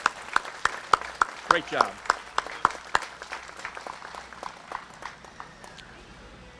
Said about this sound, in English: How about a round of applause for Noah?